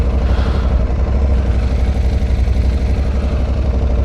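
An Aprilia Tuareg 660 motorcycle engine running steadily while riding, a loud, close, continuous mid-pitched drone with a rough pulsing texture and no talk.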